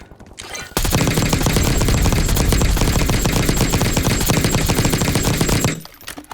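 Sustained automatic gunfire rakes a vehicle in the video game Warzone, a loud dense burst of rapid shots running for about five seconds before cutting off abruptly.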